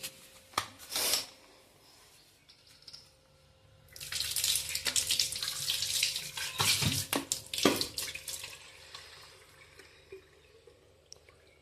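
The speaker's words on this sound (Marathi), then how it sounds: "पटकन बाटल्या भरून घेऊया." Water from a tap or pipe fills bottles, running in bursts with pauses, gurgling and splashing near at hand, with no talk over it.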